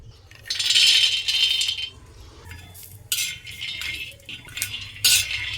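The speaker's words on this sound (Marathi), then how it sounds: "आता आपल्याला तव्यात मिरच्या आणि शेंगदाणे आणि लसूण भाजून घ्यायचं आहे" Chillies, peanuts and garlic are dry-roasted without oil on a tava. Bursts of metallic scraping, rattling and clinking come as the spatula stirs and the peanuts tumble across the pan, with quiet gaps in between.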